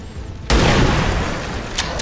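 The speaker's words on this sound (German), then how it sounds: "So, und Plastiklöffel hat jetzt einen super Schuss auf ihn." Gunshot fired at an enemy in the video game XCOM 2, a sudden loud boom after a quiet start that decays into a sustained rumbling roar, with a smaller crack near the end.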